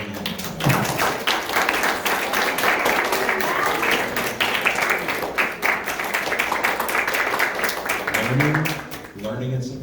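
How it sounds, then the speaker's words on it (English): A crowd of students in an event hall claps for their parents, a dense, sustained applause of many hands that fills nearly ten seconds before thinning out at the very end. "So, students, it's your turn to applaud your parents."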